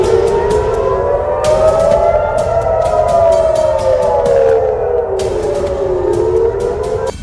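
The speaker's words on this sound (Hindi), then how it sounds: "इससे पहले मिसाइल या रॉकेट अटैक वाला सायरन भी बजा।" An air raid siren warning of a missile or rocket attack in Haifa, Israel, wails loud and close. Its pitch rises and falls slowly, and sharp clicks and crackles sound alongside it.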